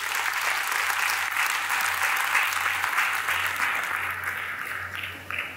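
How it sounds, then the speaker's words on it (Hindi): An audience at the Saras Aajeevika Mela 2023 claps loudly and continuously for several seconds, a dense wash of many hands that slowly tapers toward the end. "जोर से ताली बजाइए अपने आप के लिए।"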